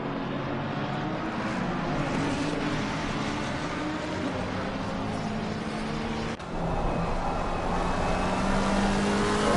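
McLaren and Mustang GT race cars in Assetto Corsa Competizione roar around the Snetterton circuit, a dense, continuous engine drone with layered tones that dips briefly and then returns slightly louder.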